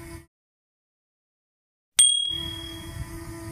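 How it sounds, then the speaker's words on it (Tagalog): After a brief silence, a single bright bell ding rings out and lingers with a ringing decay over a soft background. "pindutin ang notification bell"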